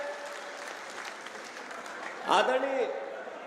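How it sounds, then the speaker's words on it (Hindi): Crowd applause at a political farmers' rally in Ujjain welcoming Harish Chaudhary, a steady wash of clapping in the background with a loud voice cutting in over it near the end. "सब हरीश चौधरी जी का तालियों की गड़गड़ाहट से स्वागत करें"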